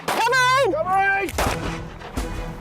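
A loud shouted command is followed by two sharp, close gunshots during a combat reload shooting drill.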